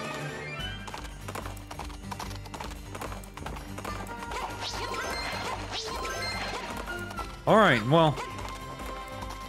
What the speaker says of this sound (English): I don't really like killing horses